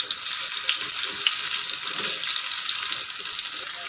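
Chicken seekh kababs fry in a pan over medium heat, giving a steady, loud, close sizzle that runs without pause, with no voices over it.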